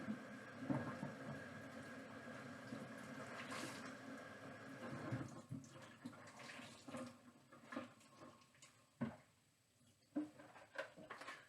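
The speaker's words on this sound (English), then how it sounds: "Let me rinse this." Dyed fabric rinsed under running water at a sink, a soft steady trickle and splash that gives way to intermittent sloshing and wet handling sounds, close and fairly quiet.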